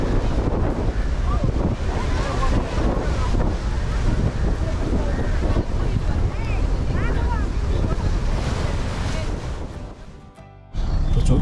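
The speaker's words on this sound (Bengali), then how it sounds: "ভারত মহাসাগরের উত্তাল ঢেউ" Rough Indian Ocean waves at Dhanuskodi near Rameswaram make a loud, continuous roar of surf, heavily buffeted by wind on the microphone, and briefly drop away near the end.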